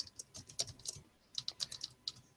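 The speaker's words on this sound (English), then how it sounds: "Who's typing like a motherfucker?" Fast typing on a computer keyboard, a close, rapid run of crisp key clicks in two bursts separated by a brief pause, with no voices.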